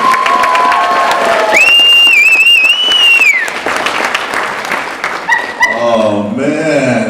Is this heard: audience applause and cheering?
yes